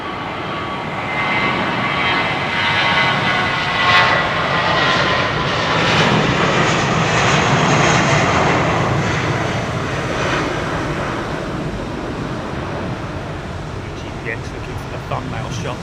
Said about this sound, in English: Nice Delta 767 400 coming out